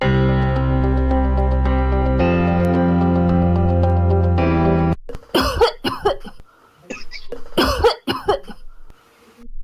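A sustained harmonic tone plays for about five seconds, then several harsh coughs follow in uneven bursts, close and fairly loud.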